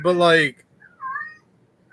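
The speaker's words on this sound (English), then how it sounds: "My cat is very vocal on the subject." A cat gives a loud, drawn-out meow close by, followed by a softer, brief chirping call.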